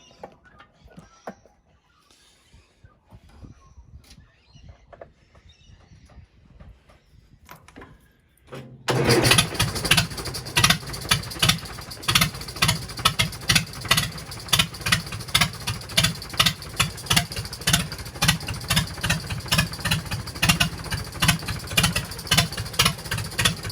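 An A414 tractor engine cranks and catches after a few quiet seconds of faint knocks, then runs loud and steady with a rapid, even chugging pulse that continues to the end.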